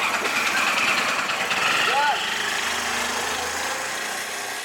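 Bajaj auto rickshaw engine running loud and close with a rough, buzzing two-stroke rattle that holds steady and eases slightly near the end, with a brief rising whine partway through.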